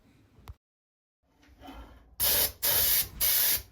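An airbrush sprays top coat paint onto a shower basin under repair: after a faint rustle, three loud hissing bursts with short gaps between, close to the listener.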